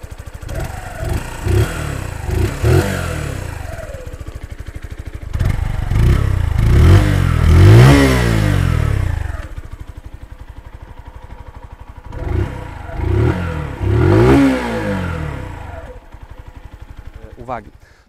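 A Barton Classic 125 motorcycle with a single-cylinder, air-cooled engine runs close by, idling with a chugging rhythm and rising in several throttle blips and revs before settling back down.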